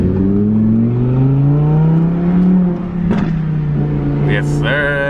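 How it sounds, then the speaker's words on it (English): An Audi R8 V10 Plus in performance mode revs loudly, its V10 rising in pitch before a brief lift with a sharp pop, then settling into a lower steady drone with a higher whine near the end. "So you get the pops in performance mode."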